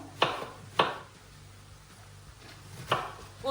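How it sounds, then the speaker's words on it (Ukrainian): Three sharp knife chops finely cut cabbage on a cutting board for borscht, two close together and one a bit later, with quiet between them. "ми нарізаємо дрібненько капусточку"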